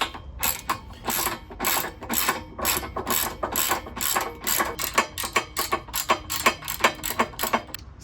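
A ratchet tightens an exhaust bolt on a classic Fiat 500 (126) during a sports exhaust fitting, giving a steady run of close, crisp metallic clicks in quick repeated bursts throughout, with no talk.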